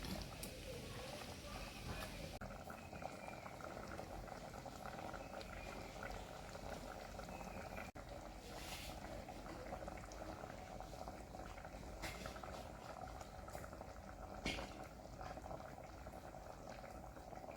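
A pot of kurukku kalan, a thick buttermilk and coconut curry sweetened with jaggery, simmers steadily with a soft, continuous bubbling hiss at low volume and no voices.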